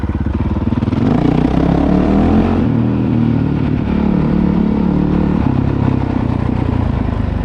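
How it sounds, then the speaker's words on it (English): A Honda CRF450L motorcycle fitted with a Yoshimura RS4 exhaust, ridden on loose dirt corners, runs with a steady, loud, close engine drone that shifts pitch as the throttle changes, with no talk over it. "I now have full control on this bike and what I want it to do."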